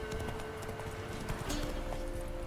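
Roach the horse trotting in The Witcher 3, steady clip-clop of hooves on the ground at moderate distance with a faint ambient backdrop and a low tonal hum.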